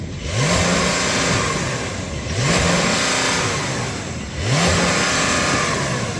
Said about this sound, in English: So I'm going to put this car in sport mode and then I'm going to rev it, but it's got a soft limiter.